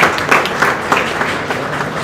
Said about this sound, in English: Can we have a huge round of applause for Jay?